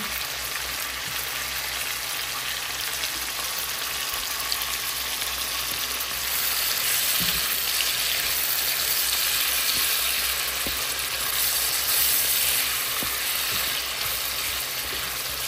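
Tomatoes frying in a pan for sarsiadong isda, a Filipino fish dish, giving a steady, dense sizzle with soft crackles and pops that swells slightly louder midway through, with no voices.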